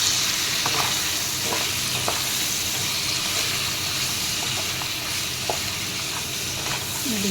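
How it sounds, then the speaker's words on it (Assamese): Chicken in a frying pan with coriander and cumin powder sizzles steadily while being stirred, with a continuous frying hiss and scattered scraping clicks from the utensil, close up, with no talking. "এইখিনি এতিয়া মই তলপৰ কৰি ভালদৰে লৰাই দি দিওঁ।"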